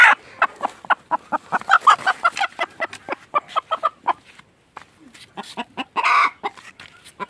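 Repeated loud, close clucks and squawks from a hen laying an egg on a village poultry farm, coming in quick irregular bursts with short pauses and a louder cackle near the end.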